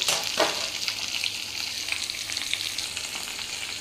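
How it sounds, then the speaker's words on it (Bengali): Pointed gourd (potol) fries in hot oil, giving a bright, continuous sizzle that holds at an even level throughout, with no talking. "আগে আমি হচ্ছে পটলটাই ভেজে নিই, তারপরে মাছটা ভাজবো"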